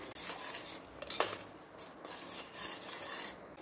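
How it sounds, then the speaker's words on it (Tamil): Tomatoes for a chicken curry are sautéed and stirred in a pan, heard as quiet scraping and rubbing of a utensil against metal, with one brief clink. "தக்காளி சேர்த்திட்டு நல்லா வதக்கணும்."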